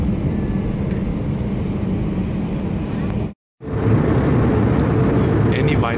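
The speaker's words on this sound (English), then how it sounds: "To Hokkaido on ANA Airlines." Inside an ANA Airlines airliner flying to Hokkaido, a steady, dense low roar of engine and cabin noise fills the space, cut off by one brief silence midway before resuming.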